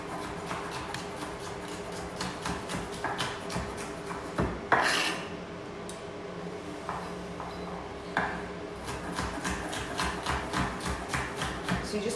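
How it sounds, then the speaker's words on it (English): A knife dices capsicum on a chopping board with a steady run of crisp, close chopping taps, briefly paused around the middle, then resuming in quick repeated strokes. "So you're just going to dice up all that capsicum"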